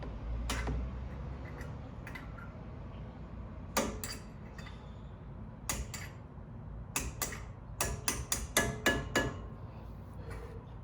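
Sharp metallic taps ring out in scattered bursts as brake pads are hammered into a 2014 Maserati Ghibli Q4, a few single knocks early, then a quicker cluster of hammer strikes near the end, over a quiet background.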